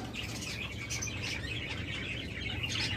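Doves and other pet birds at a bird seller's stall chirp and tweet in short, overlapping calls against a low, murmuring background, fairly close and moderately loud.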